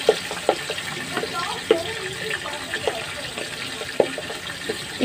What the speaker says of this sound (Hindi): तो ऑयल हो गया हमारा गर्म और अब हम ये मसाला लगे चिकन इसमें ऐड कर लें।